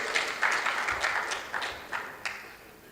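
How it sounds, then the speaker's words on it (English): Scattered clapping from a conference audience, a thin patter of hands with a few louder claps standing out, then tapering within a few seconds. "A round of applause, please."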